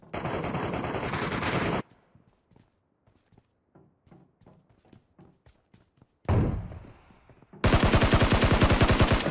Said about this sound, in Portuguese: Esse tiro dos caras atrapalhando aí é zoado.